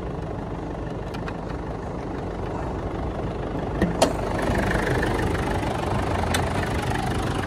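A Ford Everest diesel engine idles steadily with the engine bay open, a smooth low continuous hum with a couple of brief clicks partway through and no talking.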